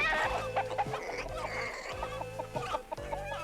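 Chickens clucking on a farm, a busy run of short repeated clucks and squawks from several birds, close and lively with no talking over them.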